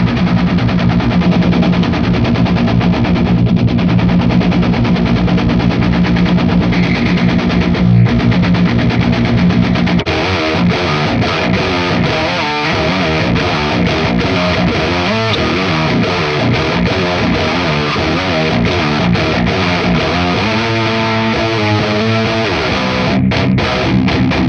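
Bass guitar driven through a distortion pedal into an amp head, with the low end cut back: a loud, continuous fuzzy roar whose grain and texture shift partway through, with rapid choppy stutters toward the end.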